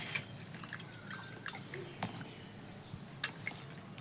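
Water dripping and splashing faintly while raw fish is washed by hand in a Konkan home kitchen, with scattered small drips and soft knocks over a quiet background.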